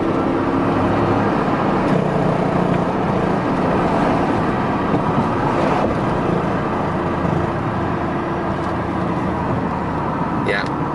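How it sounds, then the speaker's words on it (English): Mercedes W140 limousine driving while stuck in third gear, a constant broadband road and engine drone heard from inside the cabin with no change in pitch. "Okay, it doesn't seem to want to shift out of the third gear."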